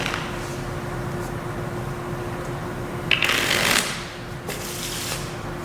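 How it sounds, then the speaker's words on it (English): A deck of playing cards is given a quick shuffle, with brief riffling bursts rising over a steady background hum, the loudest flurry near the middle before trailing off; no one speaks. "Give them a quick shuffle here."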